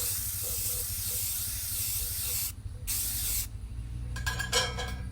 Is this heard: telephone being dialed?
no